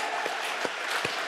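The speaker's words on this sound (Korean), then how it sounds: "우리 하나님께 영광의 박수 한번 드립시다." A church congregation claps in praise during a sermon, a dense, continuous wash of many hands with a few lower thumps standing out.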